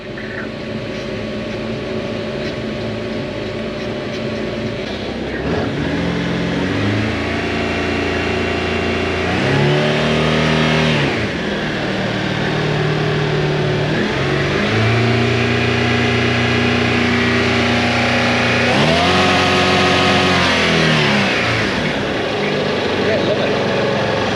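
A Toyota 1UZ V8 sterndrive boat engine runs steadily at idle, then rises and falls through several revs, loud and close, with people talking over it.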